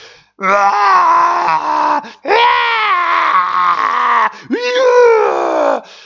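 A deep, drawn-out voice lets out three long agonized wails and groans in succession, loud and close, imitating a monstrous cry of pain.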